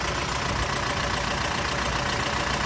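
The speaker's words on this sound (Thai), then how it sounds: "รถเครื่องยนต์เดินไม่นิ่งนะ" A car engine idles steadily up close, its broadband rumble slightly rough and uneven, with no voices over it.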